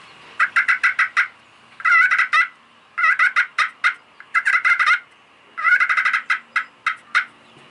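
A hand-operated turkey call imitates a turkey purr: five rolling bursts of rapid fluttering notes separated by short pauses, loud and close with no talking.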